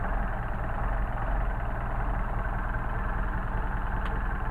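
Engine idles cold at low RPM on a carburetor test stand fitted with a Solex carb, giving a steady, even low rumble with a constant hum and no change in speed.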